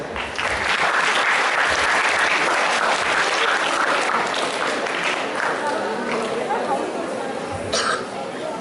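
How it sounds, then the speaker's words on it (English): Loud, dense applause from a school audience at a Mathematics Day event honouring a winning team, sustained for several seconds and tapering slightly near the end. "Please, another round of applause for them."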